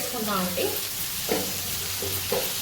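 Tomatoes, potato pieces, turmeric and chili powder sizzle in a hot pan for a broccoli curry, with a steady frying hiss and repeated scraping stirs at a regular rhythm, heard close and alone.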